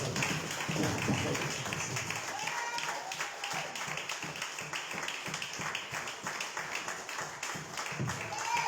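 Applause from a church congregation during a worship service, steady dense clapping that continues throughout, with voices mixed in.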